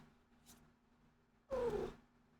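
A pet cat gives one loud, close meow after a quiet stretch, with only a faint brief sound before it.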